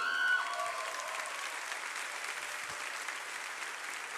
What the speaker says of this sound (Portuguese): Eu queria que você recebesse com uma salva de palmas a nossa pregadora de hoje